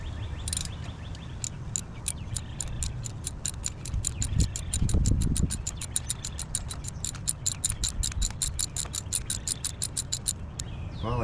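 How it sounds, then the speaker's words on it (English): A ratchet works a tight bolt loose on a 2011 Lexus RX350 at 180,000 miles, a fast string of close metallic clicks running steadily through the clip over low workshop rumble. "Finally got loose enough so I can take the ratchet off."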